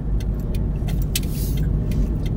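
Steady road traffic on a busy city street in Chelsea, a continuous low rumble of several cars passing close by with no pauses and no voices.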